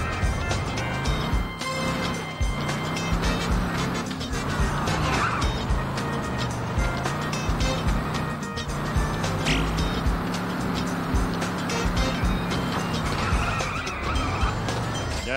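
A car in the Simpsons Road Rage video game drives hard with a continuous engine drone, squealing tires and skids, and occasional impact thuds, loud and steady throughout.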